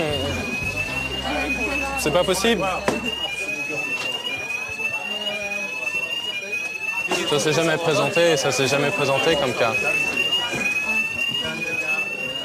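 A fire alarm in an office building sounds with a repeating rising electronic whoop during a real fire, while people talk loudly nearby, the alarm continuing under the voices.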